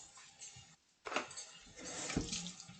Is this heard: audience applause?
no